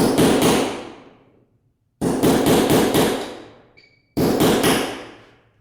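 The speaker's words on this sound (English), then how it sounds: "we're just going to knock this one here back down below the surface" Three separate bursts of sharp metallic hammer strikes on a punch, driving a popped nail below a wall surface, each a quick run of blows that rings out and fades, with short pauses between.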